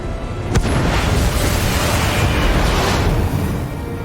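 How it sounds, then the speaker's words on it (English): A missile launching and blowing up in the video game Batman: The Enemy Within: a sharp crack, then a loud, sustained, rumbling roar that fills the scene for several seconds before easing off. "Shoot the missile."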